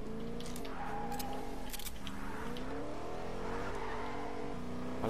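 A car engine in a shooter video game hums and revs at moderate volume, its pitch sliding up and down as it drives, with faint tire noise and a few brief sharp clicks mixed in.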